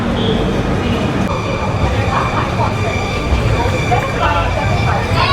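Train 17248 on the Dharmavaram to Narasapuram route rolls out of Tirupati railway station with a continuous rumble and a steady mechanical hum. A voice talks over the running noise.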